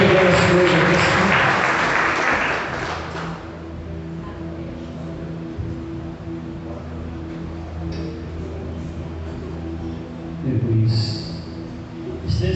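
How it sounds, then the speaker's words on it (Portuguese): A church congregation at a Sunday service bursts into loud, dense applause that fades after a few seconds, leaving room noise and a brief rise in sound near the end. "Você pode aplaudir bem forte a Jesus."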